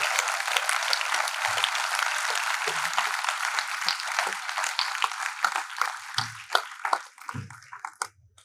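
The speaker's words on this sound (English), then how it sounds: "We can have a huge round of applause for all the students also." An audience at a convocation ceremony applauds the graduating students with sustained, dense clapping that gradually thins into scattered individual claps before stopping.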